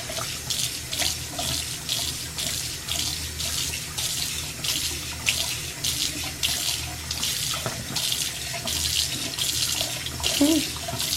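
Tap water runs steadily into a sink, rinsing off a Dollar Tree cleaning product in a continuous, even rushing stream that stays moderately loud throughout, with no talking.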